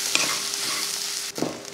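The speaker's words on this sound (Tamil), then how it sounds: "அதாவது அந்த ஈரப்பதம் இல்லாமல் நல்லா வறுத்து வரணும்." Shredded chicken is stir-fried dry in a hot pan, with a steady close sizzle and scraping stirs at the start and again near the end of a short stretch.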